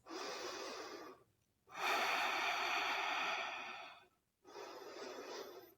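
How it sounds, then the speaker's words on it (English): Slow, deep breaths during prenatal yoga, close and soft: an inhale, a long airy exhale, then another inhale, separated by brief quiet pauses. "Take 2 more deep breaths."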